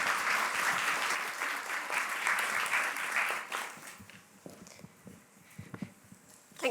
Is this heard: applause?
yes